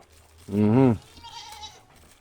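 A single loud, wavering goat bleat on a farm, close to the microphone, followed by quieter farmyard sounds and a faint voice in the background.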